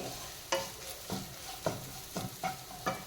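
A spatula or spoon stirs and scrapes a pan of tempering seasoning for moru curry (Kerala spiced buttermilk curry), with about six distinct strokes over a soft, steady sizzle.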